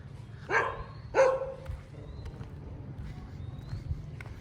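A dog at a Buddhist temple in San Kamphaeng, Chiang Mai, gives two short, fairly close barks, then fainter yips trail off over a low outdoor rumble.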